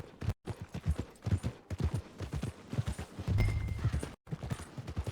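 Horse hooves clip-clop at a steady walking rhythm on a path toward the stables in Red Dead Redemption 2, close and clear, with brief gaps and a low rumble partway through.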